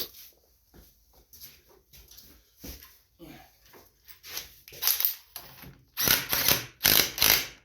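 Ratcheting clicks while tightening the steering wheel bushing on a Craftsman GT riding mower, short bursts of mechanical clicking that grow louder and faster toward the end.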